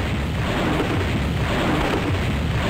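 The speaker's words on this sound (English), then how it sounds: "Damn, explosions!" Explosions in a Batman-themed DOOM wad merge into a loud, continuous roaring rumble with dense crackling, close and unbroken throughout, with no talking.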